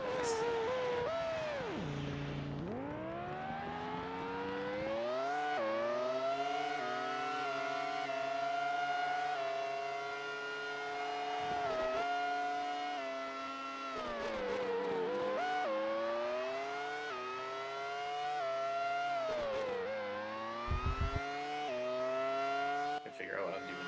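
Race car engines in the N64 game Monaco Grand Prix: a loud, continuous high-pitched engine whine rising and falling with gear shifts and brief dips, sustained throughout with a few short drops.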